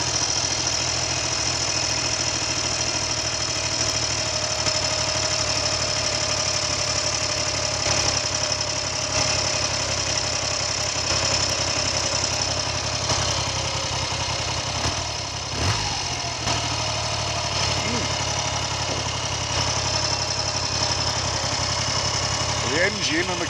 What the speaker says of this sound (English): The engine and the carburetors obviously seem happy with life.